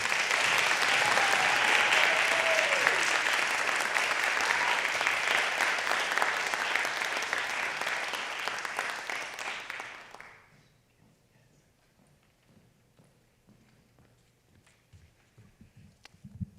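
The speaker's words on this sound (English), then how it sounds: "Let's give another round of applause to these writers." Audience applauding young writers at a junior creative writing reading, a dense steady wash of clapping for about ten seconds that then stops abruptly, leaving near silence with faint rustles.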